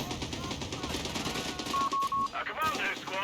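Machine gun fire rattles in the strategy video game Company of Heroes 3, rapid bursts sounding amid the battle noise while a player talks over it.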